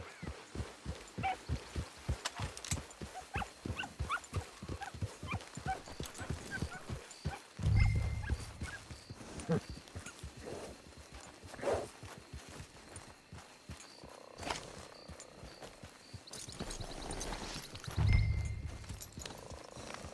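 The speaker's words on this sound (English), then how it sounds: "It's your horse." Rhythmic clip-clop of horse hooves in Red Dead Online striking the ground at a steady trot, fairly close, with a couple of heavier thuds along the way.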